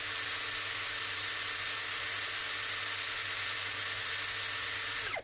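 A Hasston ART V cordless drill runs at top speed, a steady high-pitched whine held loud and constant with no voices, then cuts off abruptly as the motor stops.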